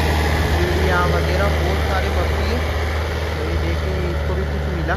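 Tractor engine working a mustard and wheat field, a loud steady low rumble that fills the whole clip, with a person talking over it.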